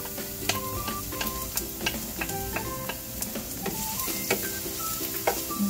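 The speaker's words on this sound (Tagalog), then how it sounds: "Isa po ang bawang hanggang lumabas ang aroma nito." Garlic sautéing in hot cooking oil, a close, steady sizzle with light stirring clicks and scrapes throughout.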